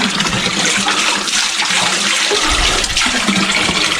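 Water rushing strongly through a channel at Roman-era ruins, a loud, steady broadband roar that holds constant throughout without pause, with no voices over it.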